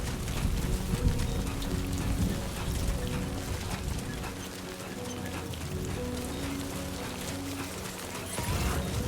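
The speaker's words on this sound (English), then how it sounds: "Rain effects look really cool." Steady rain falls in the video game Death Stranding 2, a dense, even hiss of drops striking surfaces that holds throughout, close and full, with faint mechanical clicks beneath and no talking.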